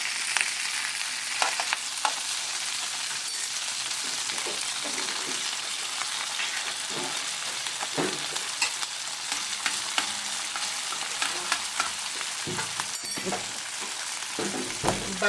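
An egg frying in a pan with crispy sisig, giving a continuous loud sizzle and crackle with scattered pops and occasional utensil scrapes and knocks.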